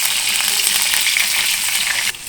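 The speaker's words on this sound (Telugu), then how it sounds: "ఆవాలు, జీలకర్ర, చిన్నెల్లిపాయలు వేస్తున్నా." Mustard seeds, cumin and small onions sizzle in hot oil for mango pappu, a steady dense crackling hiss close by that drops away near the end, with no talking.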